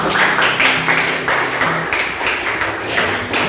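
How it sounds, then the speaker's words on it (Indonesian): A classroom of students applauds at the end of an Indonesian lesson, loud close clapping in a rhythmic, patterned beat that carries on steadily with faint voices mixed in. "sekali lagi tepuk tangan, oke, tepuk tangan untuk kita semuanya"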